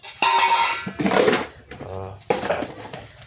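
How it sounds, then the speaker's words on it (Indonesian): Plates and dishes clatter during morning dishwashing, with several bursts of clinking and knocking separated by short pauses, close by, and a voice speaking between the clatters. "Hanya tiap pagi saya harus bangun pagi-pagi cuci piring yang malam punya ini."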